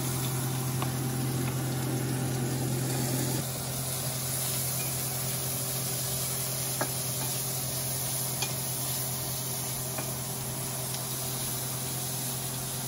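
Onions hit a pan of hot bacon and sizzle in a steady, loud hiss that holds without letup, with a faint clink or stir now and then over the constant frying.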